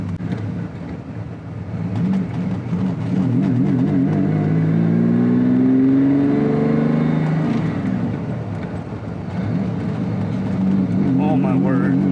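A Lamborghini Diablo with an aftermarket exhaust revs up, the engine note climbing and falling in a loud, sustained roar, with people talking over it throughout.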